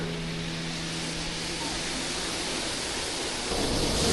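A waterfall close by roars as a steady, dense broadband wash of falling water, loud and unbroken throughout, with a low tonal hum in the first half and the rush swelling slightly louder near the end.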